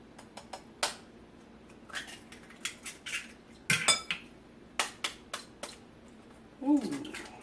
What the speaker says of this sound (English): And we're going to whisk.